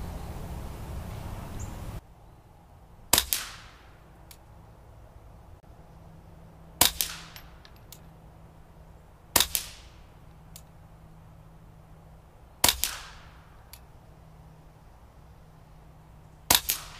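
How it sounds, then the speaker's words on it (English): Five suppressed .22 LR rifle shots from CCI Standard Velocity ammunition through a Silencerco Warlock II suppressor, each a sharp, close crack followed by a brief ringing decay, spaced a few seconds apart over quiet background. "we're going to do 5 shots, both for accuracy and sound, of the CCI Standard Velocity 22 long rifle"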